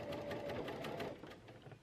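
A sewing machine back stitches piping fabric under the presser foot, a quick rhythmic run of needle strokes, faint and close, slowing toward the end.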